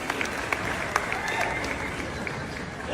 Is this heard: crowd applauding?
yes